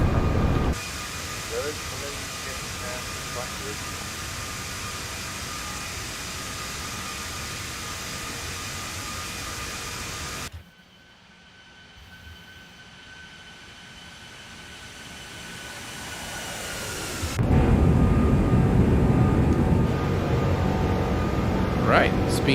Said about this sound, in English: gears going up